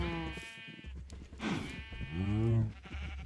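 Sheep in a video game bleat several times in short wavering calls, close by, with a low background hum between them.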